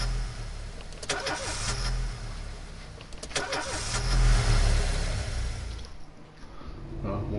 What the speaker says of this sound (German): Motor will nicht anspringen